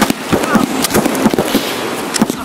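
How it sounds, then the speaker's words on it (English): A grenade blast in the shooter game Escape from Tarkov, with sharp cracking bursts and a rumbling, crackling tail spread over a couple of seconds amid busy gunfire-like noise. "Throw a grenade."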